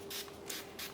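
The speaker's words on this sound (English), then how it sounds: "first thing you need to do is you just spray the wax on" Spray wax hisses from a bottle onto a door in three short bursts, each a soft airy spritz close to the listener, with quiet pauses between.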